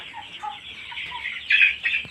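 Backyard-farm chickens about 45 days old cluck softly nearby in short, uneven calls, with one louder burst near the end; no talking.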